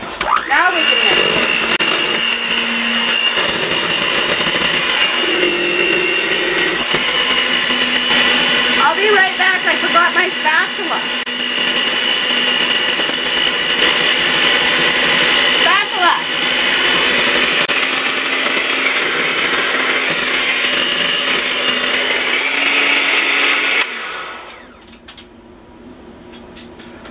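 An electric hand mixer beats egg-substitute batter in a bowl, a loud steady motor whir that runs for most of the clip with small shifts in pitch, then cuts off near the end.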